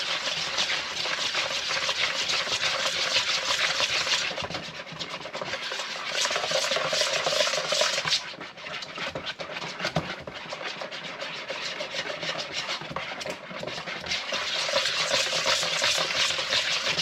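German pancake batter being mixed in a bowl, a steady scraping, stirring rustle that runs continuously and close up with slight swells in intensity, no voices.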